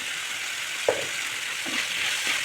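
Ground paste of coconut, ginger, garlic and fennel added to a hot pan for a peanut kurma, giving a steady soft sizzle with one sharp splash as it goes in, then quieter crackling.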